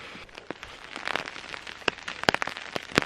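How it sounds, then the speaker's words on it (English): Heavy rain falls on a mountainside, with irregular close drops spattering and crackling against a surface over a soft background patter, some strikes sharper and louder than others. "Still dumping rain."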